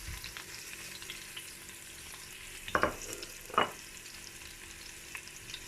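Onion and red chili fry and brown in a pan with a soft, continuous sizzle, punctuated by two brief clinks of a utensil stirring.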